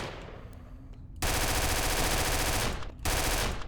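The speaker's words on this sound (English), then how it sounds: "Do we have some kind of sniper here?" Rapid automatic gunfire from the Redacted 2 video game, a dense continuous burst with a brief gap before resuming, loud and harsh over a noisy background, no talk.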